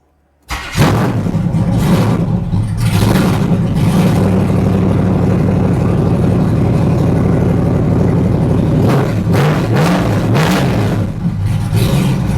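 A 1984 Camaro Z28 engine with no exhaust fitted, running straight out of the catalytic converter, cranks and catches, then runs loud and raw with a harsh, unmuffled roar, revving up several times over a steady rumbling idle.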